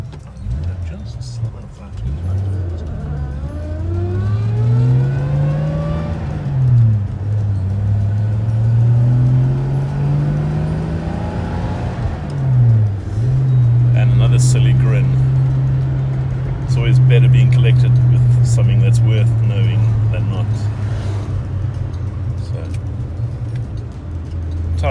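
A VW Polo Caddy 1.9 SDi diesel drives around a roundabout, its engine droning steadily with pitch rising and falling through gear changes, loud and close inside the cabin while someone talks over it.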